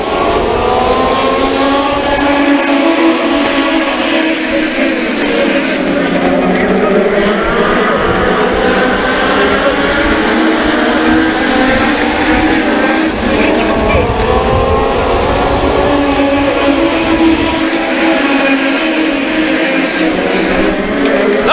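US Legend race cars roar around Riverhead Raceway at night, a loud, continuous pack of engines with rising and falling pitch as cars pass, a commentator talking over the racing.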